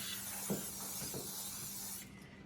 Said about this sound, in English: So I'm gonna go ahead and spray our dish.